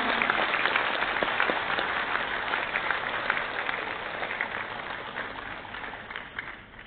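Enthusiastic audience applause fills a hall during a plaque presentation ceremony, a dense, steady wash of clapping from a large crowd that carries on for several seconds and fades slightly toward the end.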